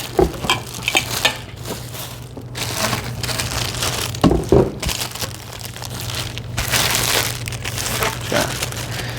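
Parts of a Hoover HVRPWR cordless backpack vacuum cleaner, including the wand, are pulled from their packaging. Close, loud plastic crinkling and rustling come in bursts, with handling knocks and sliding sounds.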